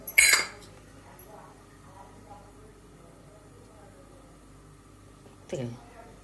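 A metal kadhai is set down on a kitchen stove with a sharp clank, then later another metallic knock, separated by quiet room tone and faint background speech.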